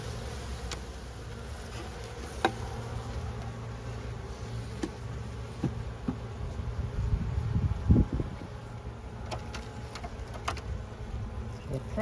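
Honey bees buzz steadily around a hive while being fed sugar, a continuous low hum with occasional louder passes of single bees flying close, swelling briefly near the middle.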